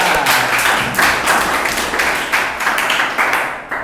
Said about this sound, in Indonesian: Oke, tepuk tangan buat kita semuanya.